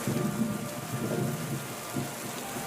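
Steady rain patters in a Tom and Jerry cartoon, with a low rumble beneath it and no voices.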